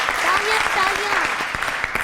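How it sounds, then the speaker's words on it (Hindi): Studio audience applause at a Pakistani game show, a steady wash of clapping lasting about two seconds with a voice speaking briefly over the start. "तालियां"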